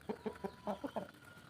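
Burmese fighting chickens kept on a rural farm give a quick series of about six soft clucks in a steady, close rhythm, faint and alone with no talk.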